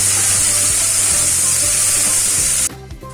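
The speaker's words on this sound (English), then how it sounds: "add chopped onions, cook it till golden brown." Chopped onions frying in hot oil in a pan, a loud, steady close sizzle with faint stirring, abruptly dropping away near the end.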